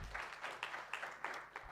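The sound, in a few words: applause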